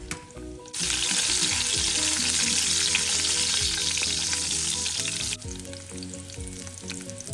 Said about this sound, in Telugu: ఇంకో సగం గార్లిక్ ఉన్నాయి కదండి అవి వేసి వేయించుకుందాం